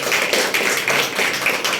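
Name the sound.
audience clapping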